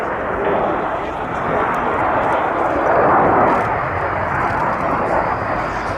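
Dassault naval jets roar loudly and continuously while turning a curving final approach to land at an air day, with the steady engine noise swelling in the middle; a voice talks over it.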